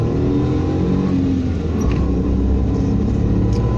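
Suzuki Jimny 660cc SUV with a manual transmission being driven on a road with the air conditioner running, giving a steady, close engine rumble and road noise throughout, with no talk.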